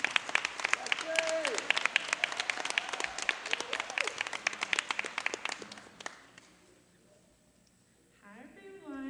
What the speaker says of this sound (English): Everybody give a warm welcome round of applause for Miss Lexi P.